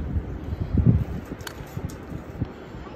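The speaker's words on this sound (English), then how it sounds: "it's getting windy out here" Gusty wind buffets the microphone in low, uneven rumbles, with faint rustling and a few light knocks.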